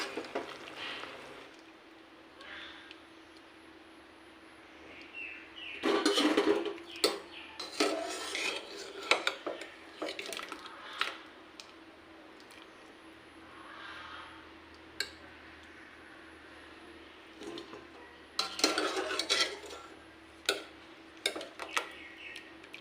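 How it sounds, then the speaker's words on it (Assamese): Boiled elephant apple being mashed in a pot for pickle makes intermittent soft squelching, rubbing and scraping knocks in bursts, fairly quiet and close, with pauses between strokes. "এইদৰে মই গোটেইখিনি ঔটেঙা টুকি ল'লোঁ।"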